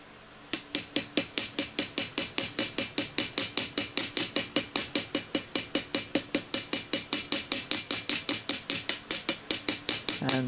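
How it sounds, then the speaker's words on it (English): A jeweler's size ball peen hammer strikes a brooch in a fast, steady run of bright metallic taps, bouncing evenly and close up for the length of the clip, with no talk. "I'll use a smaller ball peen. This is a jeweler's size ball peen."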